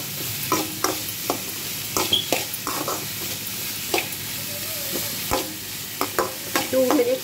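Vegetables and sauces fry on a small pan over medium-high heat for noodles, with a continuous sizzle and repeated close scrapes and clatters of stirring.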